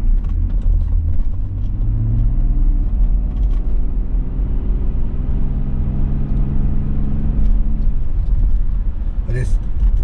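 A BMW E39 525i on a test drive, its engine giving a steady low rumble and drone with road noise throughout, loud and close from inside the cabin, with a brief higher whine near the end.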